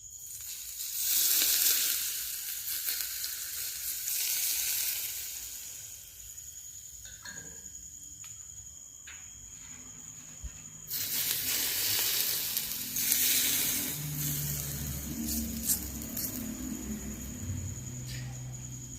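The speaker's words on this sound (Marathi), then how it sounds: "हे गरम तेल जे आहे उकळलं अगदी ते आपण ह्याच्यावर हळूहळू टाकणार आहोत लसूणावर" Hot, freshly boiled oil poured slowly over garlic for a Khandeshi raw mango pickle, bursting into loud hissing sizzles in two main waves with quieter crackling between, close up.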